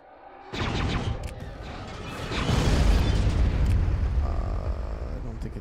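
Bombing run explosions in a video game: after a quiet start, a loud rumbling burst sets in, then a heavier booming roar swells and holds steady to the end, with a brief voice in the background.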